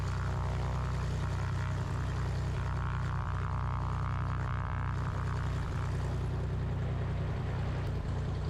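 Small single-engine propeller airplane, running on a newly overhauled engine, during a takeoff roll: a loud, steady engine drone with a strong low hum and propeller buzz, holding constant throughout with no talking.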